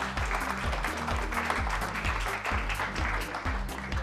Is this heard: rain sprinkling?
no